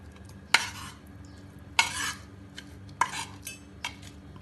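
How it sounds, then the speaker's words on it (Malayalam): Sautéed tomato and chillies are spooned into a mixer jar with four sharp metal-on-metal scrapes and clinks, each trailing off briefly, spaced about a second apart in a quiet kitchen. "ഇതിനി അരച്ചെടുക്കാൻ വേണ്ടി മിക്സിയുടെ ഒരു ജാറിലേക്ക് ഇടാം."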